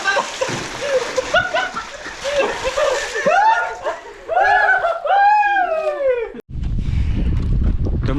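People jump into cold water while swimming in a village, with lively shouting and laughter at first, then a broad rushing splash of water near the end.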